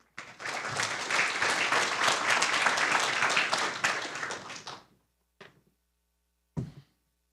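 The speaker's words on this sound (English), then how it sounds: "我们掌声欢迎" Conference audience applauding to welcome a keynote speaker, with dense, even clapping for about four and a half seconds before it stops abruptly, followed by a couple of isolated thumps.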